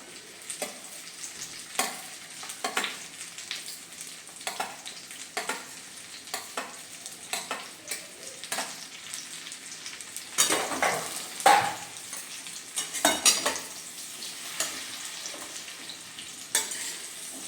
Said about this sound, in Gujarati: સતત હલાવતા જઈને જ્યાં સુધી ખજૂર ઓછું ન થઈ જાય ત્યાં સુધી આપણે એને સાતરી લઈશું.